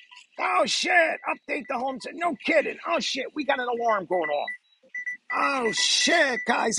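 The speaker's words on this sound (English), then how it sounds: "We got an alarm going off." An electronic alarm beeps intermittently beneath loud, excited talking, with its tone standing out briefly in a gap between voices.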